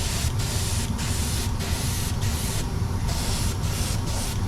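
An airbrush sprays a waterproof coating over an FPV drone, a close, steady hiss broken by several brief regular pauses between passes.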